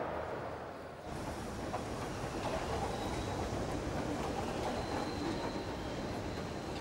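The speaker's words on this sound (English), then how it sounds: "Finally, the Sunderland supporters board their trains." A train departing a station rumbles steadily on the rails with a dense, continuous roar, faint wheel squeal and clatter rising over it.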